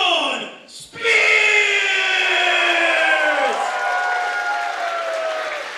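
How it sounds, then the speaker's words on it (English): A wrestling crowd at a championship match roars with loud cheering and applause after a brief dip, a sustained wall of noise with bright, drawn-out tonal sounds riding over it. "This crowd is on their feet."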